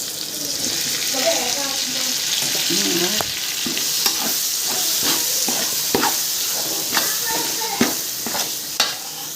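Tomatoes sizzle and fry in a pan during a Kerala-style tomato rice preparation, with steady broadband frying hiss and repeated clicks and scrapes of a spoon stirring, close and continuous throughout.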